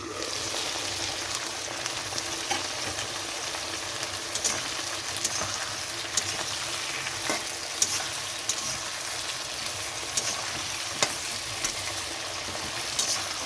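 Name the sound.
frying tilapia curry ingredients in pan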